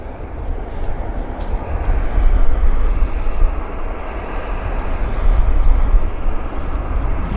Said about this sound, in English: There's that Q400 it's taxiing in right there